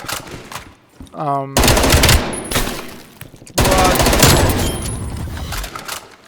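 Assault rifle fire in Black Ops Cold War, loud rapid automatic bursts in two long strings separated by a brief pause, with game effects between them.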